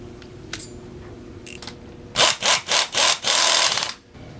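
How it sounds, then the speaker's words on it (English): A power tool cuts through a coilover bump stop during a Mazda Miata suspension install. After a few faint clicks, it runs in four short rhythmic bursts and then one longer whining burst, close and loud. "I'm going to be cutting this bump stop just to the last, whatever you want to call that, last little bump"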